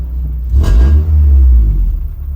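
The engine of a 1962 Rambler American body swapped onto a 2001 Honda Civic revs up once and then decelerates, a loud, close, deep rumble that swells and eases off.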